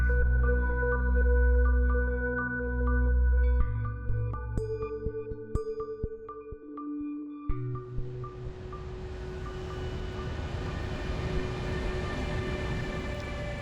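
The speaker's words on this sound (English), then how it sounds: "le train en provenance de Berlin entre en gare de Budapest" Train from Berlin pulling into Budapest station: a low rumbling drone with tonal hums and clanks, then a broad, steady rushing wash of rail noise, moderately loud and with no voices.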